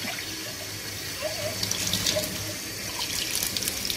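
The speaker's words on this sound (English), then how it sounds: "let's put some water in here" Water is poured from close by into the condensate trap of a Worcester Greenstar 30SI Compact boiler during a repair. It makes a steady trickling splash that grows busier and more gurgling partway through.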